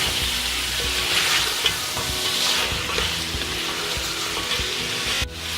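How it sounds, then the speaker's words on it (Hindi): Mutton sizzles and fries in a pan while being stirred for pulao, with a steady close hiss and scraping stir strokes throughout, no voices. "अब हम इसमें मटन ऐड करेंगे। और इसे थोड़ी देर के लिए भून देंगे।"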